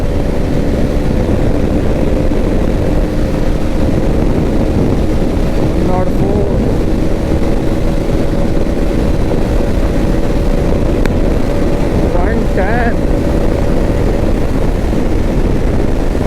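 A Hero Xpulse 200 4V Pro motorcycle runs hard through its gears under loud, constant wind rush, its engine a steady droning tone with brief shifts along the way.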